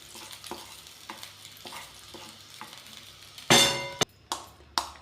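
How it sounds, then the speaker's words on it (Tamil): Tempering being mixed into freshly cooked rava pongal in a pan: a series of soft spoon scrapes and stirring strokes, then a loud sizzling burst as the hot tempering goes in, followed by a few sharp clinks of the spoon against the pan. "தாளித்து இதில் சேர்த்து நல்லா மிக்ஸ் பண்ணி எடுத்துக்கலாம்."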